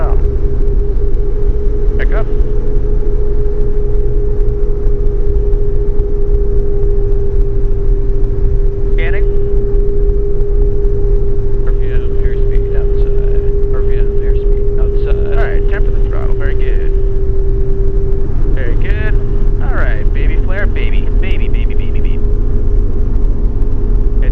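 A training helicopter in autorotation practice, a loud, steady cabin drone with a constant engine tone lasting the whole stretch, while people talk over the intercom and radio.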